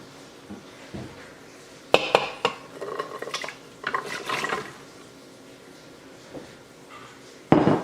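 Chopped green beans, celery, onion, carrots and potatoes tipped into an Instant Pot, giving a few clattering scrapes and knocks of utensils against the metal pot, separated by quiet gaps and ending with a final loud clank.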